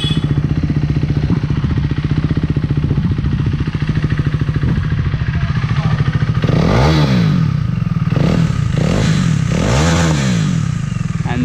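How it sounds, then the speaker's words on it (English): A KTM Duke 390 motorcycle with the exhaust baffle removed idles with a loud, bassy, close-up putter, then is revved several times in sharp rising and falling bursts, with no talking. "That's how the exhaust sounds like."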